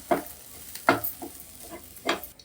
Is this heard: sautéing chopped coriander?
yes